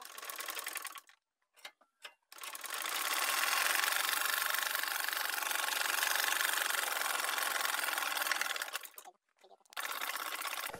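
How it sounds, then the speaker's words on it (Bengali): A sewing machine stitching denim jeans runs in short bursts at first, then in one long steady whirring run. It stops briefly and then starts up again. "তারপর আমি মার্ক অনুযায়ী সেলাই করে নেব। তো চলুন আমি সেলাইটা করে নেই।"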